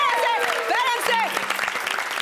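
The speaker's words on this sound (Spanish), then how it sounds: "¿cómo que le aplauden?" Studio audience applause during a televised dating-show elimination segment, steady clapping with voices and music-like tones layered over it throughout.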